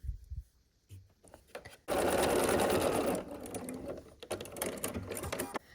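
A sewing machine stitches quilt rows together in a loud steady run of about a second and a half, followed by shorter bursts and brief pauses.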